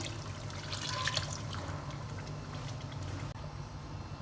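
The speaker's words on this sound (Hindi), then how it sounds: "और अब इसके अंदर हम ऐड करेंगे पानी" Water pours steadily into a pot of aloo and beef kofta curry, a continuous splashing, gurgling stream heard up close with no talking.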